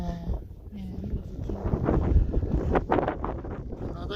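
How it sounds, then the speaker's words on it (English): Wind buffets the microphone in low rumbling gusts on a high mountain trail at about 12,760 feet in Colorado, with brief talk mixed in near the end. "Pretty windy here."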